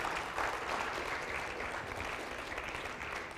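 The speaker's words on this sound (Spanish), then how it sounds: "Dale fuerte el aplauso al Señor." A church congregation clapping during a worship service, a dense continuous round of applause from many hands, moderately distant and steady for a few seconds.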